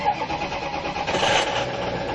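A 2006 Ford F550 diesel engine cranks and catches right after glow plug warm-up, settling into a steady, loud, close rumble with no talking over it.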